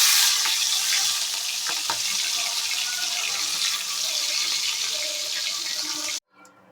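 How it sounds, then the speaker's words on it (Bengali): Tiger prawns rubbed with salt and turmeric frying in hot oil, a steady loud dense sizzle that runs unbroken and then cuts off abruptly near the end. "তো এটা আমি ভেজে নেব।"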